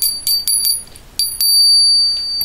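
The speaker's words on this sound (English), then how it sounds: "So I can't even touch this bell." A small metal bell struck lightly several times, giving bright clear pings followed by a sustained ringing tone that hangs and slowly fades, close and fairly loud with no talking.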